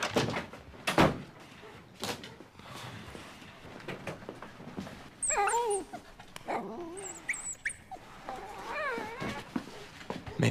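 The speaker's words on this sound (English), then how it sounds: "I might know a puppy who needs a home." A puppy whimpers in short, high-pitched whines that rise and fall, heard between bursts of other noise with no talking over them.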